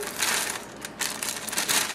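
A cake mix bag, for an Oreo birthday cake, is torn open by hand in a kitchen, giving a close, bursty papery crinkling and ripping in two or three quick pulls.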